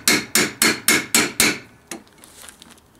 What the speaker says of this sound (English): So I'll line up all my tooling here, and I'll give this a couple of whacks.